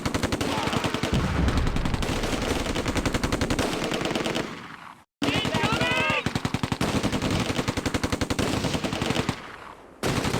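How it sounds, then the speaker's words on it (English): Dense machine-gun and rifle fire with explosions in the Close Combat: A Bridge Too Far wartime strategy game, rapid unbroken bursts filling the scene, briefly dropping out twice, with faint in-game shouting mixed in. "Unter schwerem Beschuss."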